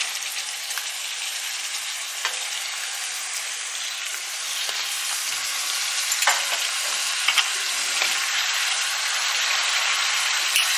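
Mutton and tomatoes frying for a curry in a pan, giving a steady close sizzle with occasional stirring scrapes and faint pops throughout.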